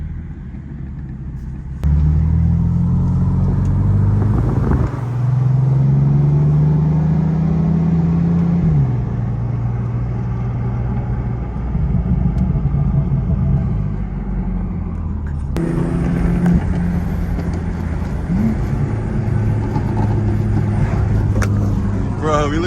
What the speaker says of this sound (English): Yo, that B58 sounds mad aggressive.